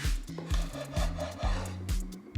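A knife chops finely through parsley, garlic and capers on a wooden cutting board, giving a steady run of close, quick thuds and taps.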